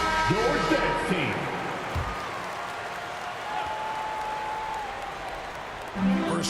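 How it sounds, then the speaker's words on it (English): Crowd applause fills an NBA 2K24 arena, a steady broad wash of clapping and fan noise that holds through the whole stretch, with a brief swell near the end. "Fans, give a big round of applause for your Jets team."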